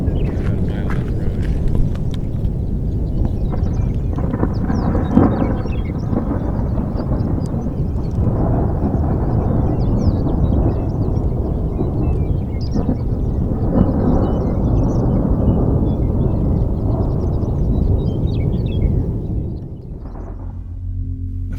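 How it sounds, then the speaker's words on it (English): Thunder from a supercell storm near Lakin, Kansas rolls in a deep, continuous roar for about twenty seconds, then drops off sharply at the end. "the roar of the thunder was like nothing I've ever heard."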